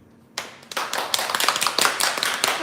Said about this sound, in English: let's give a applause to welcome Autumn to introduce our laser marking machine